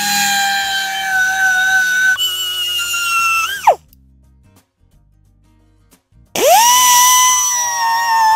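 A power tool whines steadily while sanding down an old Marx toy engine, then spins down with a falling pitch. A few seconds of near silence follow before the tool starts up again with a rising whine.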